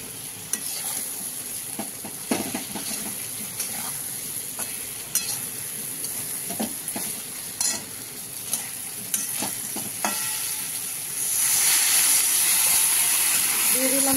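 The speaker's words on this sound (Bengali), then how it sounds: "এবার এই মশলাটা দিয়ে আমি কষিয়ে নেব, আদা জিরাটা কষা হয়ে যাবে" Ginger and cumin spice paste sizzles and fries for a fish curry, with scraping stirs and clinks throughout and a louder, steamy hiss swelling near the end, likely as liquid is added.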